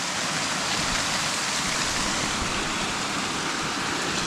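A waterfall in Guatemala pours with a constant, dense rushing roar, loud and unbroken from start to finish with no voices.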